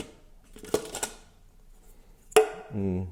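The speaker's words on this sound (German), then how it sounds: "dann kommen jetzt hier die Töpfe zum Vorschein" Metal camping cooking pots clatter as they are unpacked from a bikepacking kit: a few sharp clanks early on, then a bright metallic knock and a short ringing resonance near the end, close to the microphone with no talk.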